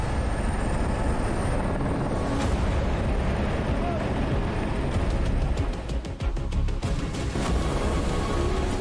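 A helicopter flies nearby with a continuous loud rotor drone and engine roar, and a rapid rhythmic blade chop becomes audible toward the end.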